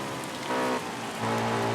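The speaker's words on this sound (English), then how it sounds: "Now here comes the rain." Steady rain hisses across a racing circuit in the VR46 motorcycle racing video game, a dense, even wash of droplets with a low engine drone underneath, no voices.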